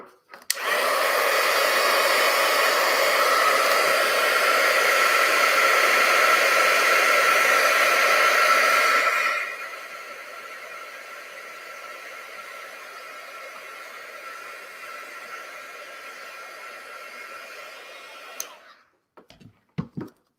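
A hair dryer blows on wet paint, a loud steady whooshing roar that drops to a lower setting partway through, runs close for most of the time and then clicks off near the end.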